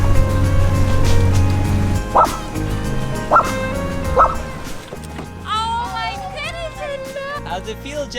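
A small puppy gives a few sharp, high yips spaced a second apart, followed by whimpering, aboard a sailboat, with people chatting nearby and a low engine hum.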